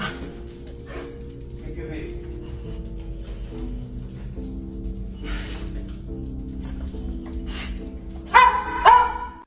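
Dogs barking and yipping, with a few louder, sharper barks near the end, heard under ongoing talk and background noise.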